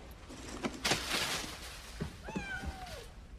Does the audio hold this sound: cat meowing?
yes